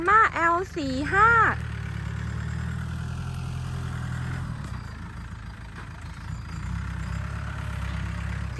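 A used 2010 Yanmar L45 tractor with a 45 hp engine idles with a steady low rumble throughout. A brief voice is heard near the start.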